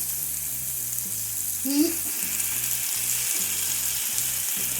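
Chicken fries in a pan with a steady, hissing sizzle that runs the whole time beneath looping background music, with a brief louder swell partway through.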